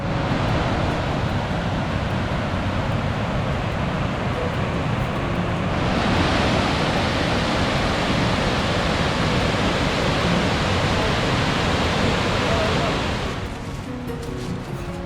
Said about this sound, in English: We're going to head down to the part of the waterfall that isn't man-made.